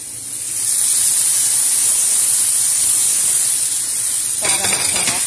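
Mushrooms and chicken breast sauté in a pan with onion and garlic, a loud, steady broadband sizzle close up with a brief clatter near the end.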